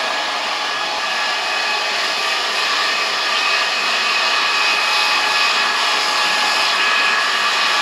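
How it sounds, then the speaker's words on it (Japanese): A hair dryer giving a finishing blow-dry at a hair salon: a loud, steady, close whooshing roar that runs unbroken throughout. "じゃあ仕上げのブローします。"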